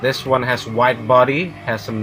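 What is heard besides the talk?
None of the usual background noises is heard.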